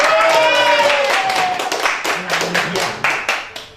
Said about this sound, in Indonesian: yuk tepuk tangan dong.